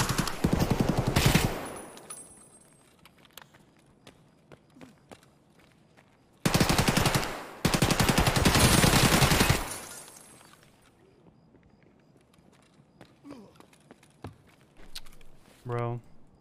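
Bursts of SA-58 rifle fire in Escape From Tarkov: a long automatic burst, then two more sustained strings of rapid shots after a pause, loud and close, with scattered clicks and a short electronic chirp near the end.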